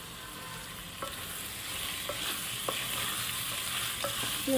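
Marinated chicken coated in masala and chili sizzles steadily in a pan for gongura chicken, a soft continuous fry with a few light clicks of stirring, close and fairly quiet, no talking.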